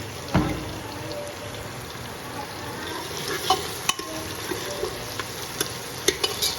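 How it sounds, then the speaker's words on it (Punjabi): A capsicum tempering for savoury namkeen daliya sizzles in a pan as it is stirred, with a continuous close frying hiss and scattered sharp scrapes and taps of the spoon against the metal. "ਤੜਕੇ ਨੂੰ ਆਪਾਂ ਵਿੱਚ ਵਿੱਚ ਹਿਲਾਉਂਦੇ ਰਹਿਣਾ ਹੈ"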